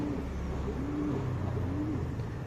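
A tournament pigeon, a breed kept for flying and breeding, gives a run of low, throaty coos that rise and fall in a steady rhythm, close by, over a constant background hum.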